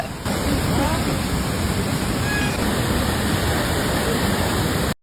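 Floodwater pours over a waterfall in Tirunelveli during a major flood, a steady, loud, close roar of rushing water that holds unbroken for about five seconds before cutting off.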